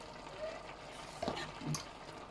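Spaghetti stir-fried with Thai chili paste in a pan: a quiet, steady sizzle with a few soft scraping stirs of a utensil against the pan.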